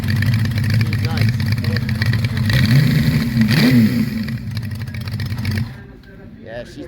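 A 1989 900 motorcycle with a stainless exhaust rumbles close by and revs up and down, then cuts out near the end, while people talk over it.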